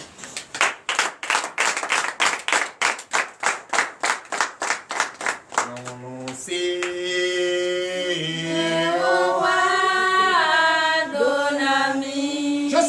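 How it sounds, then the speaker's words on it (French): A church congregation at a night deliverance service claps in a steady rhythmic beat for several seconds, then breaks into loud singing and acclamation with sustained voices. "Veuillez vous lever et donner de vive acclamation"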